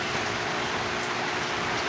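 Steady rain falls near a set of fish tubs, a dense, even hiss of drops that carries on without a break and stays fairly quiet throughout.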